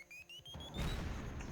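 A video game explosion bursts in after a rising whistle, a loud noisy blast that fills the short moment before it settles into rumble.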